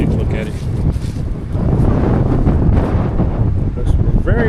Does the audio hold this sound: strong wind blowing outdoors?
yes